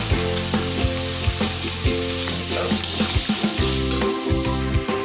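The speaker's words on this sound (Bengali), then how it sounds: "আমাদের মশলা কষানো হয়ে গেছে" Masala spices with Kashmiri chili powder fry in a pan for potato curry, giving a steady close sizzle with repeated stirring scrapes and taps throughout.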